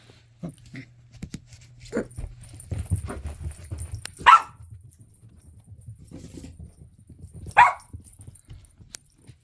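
A little rat dog, a puppy, in a home gives two sharp, loud barks several seconds apart, with quieter scuffling, soft yips and a low hum between them.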